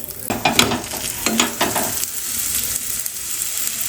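Aloo paratha frying in oil in a home kitchen pan, close sizzling with a few sharp stirring or spatula clicks early on, then a steady crackling fry that continues alone without speech.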